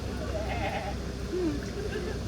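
Nigerian dwarf goats bleat a few times, wavering and moderately near, over the constant rumble of a vehicle on a safari ride at Disney's Animal Kingdom.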